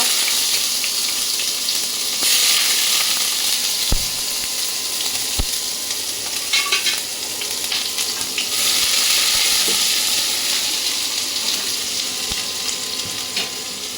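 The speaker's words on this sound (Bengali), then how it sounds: "এই যে প্রথমে আমি পেঁয়াজ কুচিগুলো দিয়ে দিব।" Chopped onions fry in hot oil for a crispy tilapia dish, giving a continuous close sizzle that swells and settles, with a few sharp clicks and stirring noises scattered through it.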